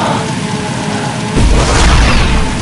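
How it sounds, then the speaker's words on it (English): A vehicle blows up in Jak & Daxter 2 with a heavy, deep boom that swells suddenly and rumbles on loudly through the rest of the moment, over steady engine-like noise. "Whoa, the vehicle exploded."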